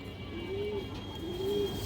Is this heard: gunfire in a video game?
no